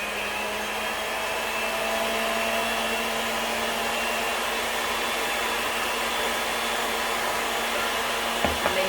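Electric mixer beating cake batter with flour for a pineapple upside-down cake, a steady whirring motor drone held close and constant throughout.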